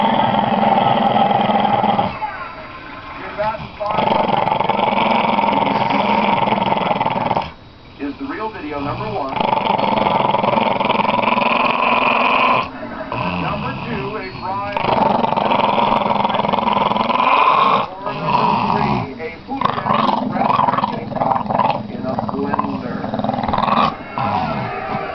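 A Jack Russell terrier woken from sleep growls close by in long, rumbling stretches that break off and start again, with people talking over and between the growls.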